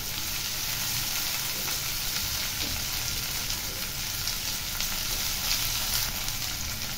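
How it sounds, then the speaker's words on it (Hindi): Chopped onion sizzles and fries in a pan while cooking Bengali-style coconut dal, a steady close hiss with faint crackle and no talking. "अब प्याज को हम लोग सुनहरा तक भूनने देंगे।"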